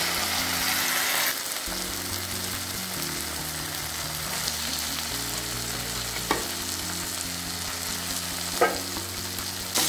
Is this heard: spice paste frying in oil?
yes